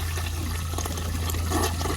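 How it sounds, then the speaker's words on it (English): A 1972 Kohler Wellworth side-flush toilet flushes up close, water rushing and swirling loudly and steadily over a low background hum for the whole stretch, with no one speaking. "There's another flush."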